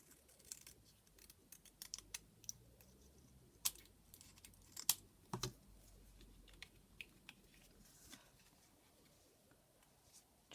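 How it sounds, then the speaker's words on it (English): Scissors snip through a card in quiet surroundings, faint scattered crisp cuts and clicks at irregular intervals, close but low in level. "that's my card, just cut this off"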